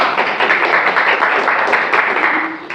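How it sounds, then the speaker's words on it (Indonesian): A classroom of students claps for the first group after its presentation, dense steady applause from many hands that thins slightly toward the end. "Tepuk tangan untuk kelompok 1."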